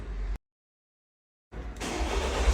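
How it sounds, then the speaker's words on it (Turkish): Mercedes CLK 220 CDI diesel engine started by remote key: after a short silence the engine catches and settles into a steady, fairly loud idle close by, with no talking. "aracımız uzaktan çalışıyor arkadaşlar"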